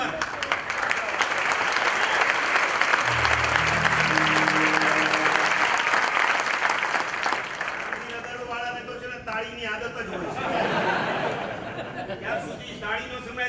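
A crowd of young people at a Gandhinagar gathering claps loudly and continuously, then the applause thins and fades as voices and chatter rise over it.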